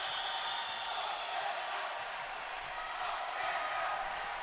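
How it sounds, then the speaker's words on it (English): Crowd at a women's basketball game between Paraguay and Colombia, a broad steady roar of cheering that stays level throughout, distant and diffuse, with no single voices standing out. "Can't quite hear what they're cheering for"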